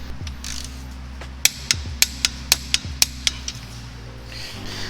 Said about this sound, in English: hold it with a wrench on the other side and then be able to torque it because it's a through